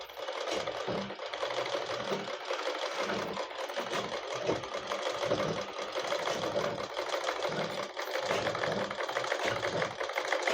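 A pedal-driven sewing machine stitching a straight seam in a beginner tailoring lesson, its rhythmic clattering needle strokes repeating evenly at a moderate pace, fairly quiet and close, with no talking.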